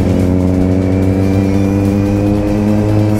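A Kawasaki Z750 motorcycle engine runs loud and close, holding a steady, throbbing rev with a rich harmonic drone throughout and no talking.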